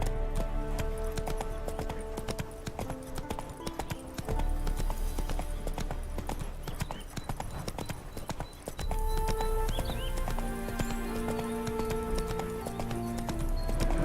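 Hooves of a horse named Roach clip-clop steadily in The Witcher 3 game, a close, even rhythm under a layer of musical score and ambient game sound.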